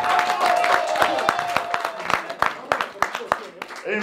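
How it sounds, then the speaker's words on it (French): Scattered audience applause, irregular claps rising over a busy room, with a brief steady tone early on. "Applaudissez s'il vous plaît."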